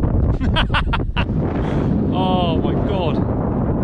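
Strong wind buffets the microphone with a continuous rough roar at a hilltop viewpoint in Wales, while a person speaks briefly over it.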